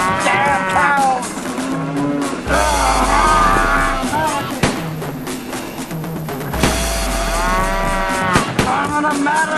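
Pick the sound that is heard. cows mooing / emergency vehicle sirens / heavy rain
cows mooing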